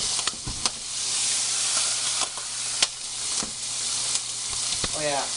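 Bacon sizzles steadily in a hot pan, a dense crackling hiss with sharp pops scattered throughout, close and fairly loud, no talking.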